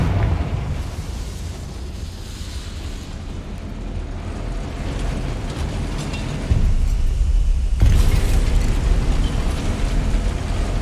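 A Confringo blasting spell in Hogwarts Legacy sets off a sustained roaring, rumbling blast, loud and broadband, swelling sharply again about two-thirds of the way through with no voices.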